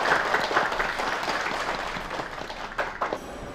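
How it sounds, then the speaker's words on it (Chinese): Applause for a new female colleague joining an office marketing department, a steady moderate patter of clapping that thins toward the end. "此处应该有掌声。"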